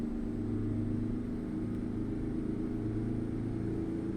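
An International Fleetstar, a very old truck in American Truck Simulator, runs with a steady low engine rumble and drone, even and unbroken throughout, with no voices.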